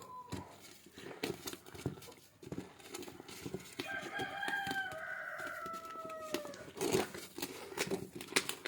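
Country chickens on a farm, with roosters crowing in a long drawn-out call over a background of scattered clucks and bits of rustling.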